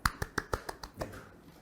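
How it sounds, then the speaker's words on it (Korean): A handful of brisk handclaps, about six evenly spaced sharp claps over a second, then quickly fading, from a small audience welcoming a speaker at a Korean cloud-security webinar. "박수 부탁드립니다."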